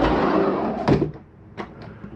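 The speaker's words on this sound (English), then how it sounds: "Make sure all doors and drawers are closed." Cabinet doors and drawers shut inside a 2014 Coachmen Freedom Express 301BLDS travel trailer: a sharp close thunk, then a fainter knock and a light tap over a soft background hum.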